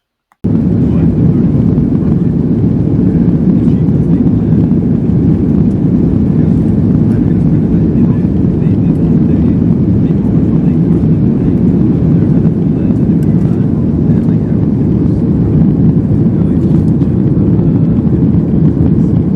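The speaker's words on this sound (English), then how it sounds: "The plane lifted off and we were in the air." A loud, continuous roar of jet engines fills the cabin as the airplane takes off, steady and heavy in the low end throughout.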